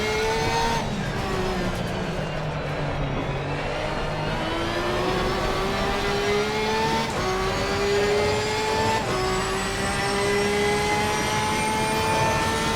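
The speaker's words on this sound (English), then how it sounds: "Gotta love the way the Porsche sounds, though." A Porsche 992 GT race car engine in Assetto Corsa Competizione at Silverstone, droning loud and steady as it climbs through the revs, with brief dips at each gear change and no voices.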